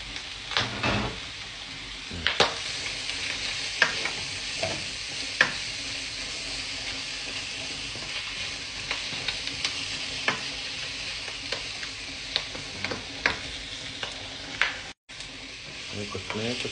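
Tomato, onion and garlic sautéing in a pan for mung bean stew, a continuous close sizzle with repeated sharp scrapes and knocks of a spatula stirring throughout.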